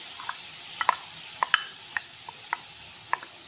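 Diced carrots sizzle in a small amount of hot oil in a pan, a soft, steady frying hiss broken by scattered sharp pops and crackles, close and without talk.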